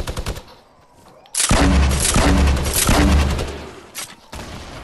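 Fortnite gunfire, a sustained burst of rapid automatic shots that lasts about three seconds and is followed by a few scattered single shots, all loud and close in the game audio.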